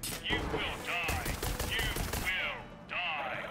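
Borderlands 3 gunfire: several bursts of rapid shots ring out close and loud over a busy game soundscape, with a voice speaking between them.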